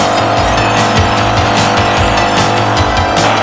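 Racing cars roaring past with engines revving and tires squealing, loud and dense, with repeated surges and pulses as the vehicles jostle close by.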